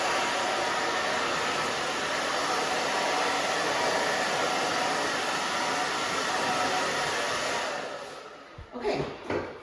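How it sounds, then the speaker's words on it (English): A hair dryer blows hair dry while styling a spiky haircut, giving a loud, steady rushing whoosh that holds for most of the clip before easing off near the end with a few brief handling noises. "So you can see I'm drying it"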